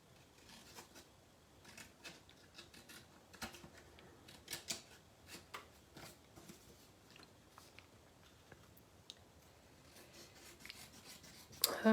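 Scissors trimming excess paper from a handmade envelope, giving soft, close snips and rustling paper scrapes scattered through the stretch at low volume, with no talk.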